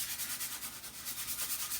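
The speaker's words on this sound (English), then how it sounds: "this is just a piece of sandpaper," Steady, gritty rubbing of sandpaper across a surface, repeated back-and-forth strokes in an even rhythm, close and fairly quiet with no talking.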